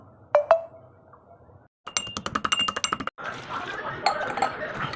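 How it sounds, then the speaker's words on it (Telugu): Garlic and cumin are pounded coarsely for tomato rasam, a rapid run of sharp metallic clinks and knocks, then a duller continued rattle close by. "వెల్లుల్లిపాయలు అండ్ కొద్దిగా జీలకర్ర కూడా వేసి కచ్చాపచ్చగా దంచుకుందాం."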